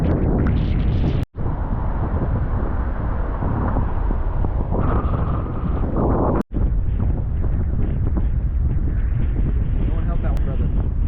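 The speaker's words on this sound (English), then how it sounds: "I can't freaking hold this board. The wind is that bad." Strong wind buffets the microphone at the beach on a very windy surf day, a loud continuous roar with heavy low rumble throughout, cut by two brief dropouts.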